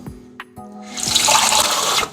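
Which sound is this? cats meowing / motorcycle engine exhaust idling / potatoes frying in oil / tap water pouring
tap water pouring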